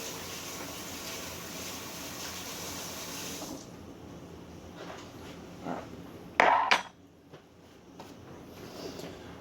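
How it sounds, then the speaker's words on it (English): A spoon is rinsed at a kitchen sink: running water hisses for a few seconds and stops, followed by a sharp metallic clink and a few quieter handling knocks. "Now I got to rinse off my spoon."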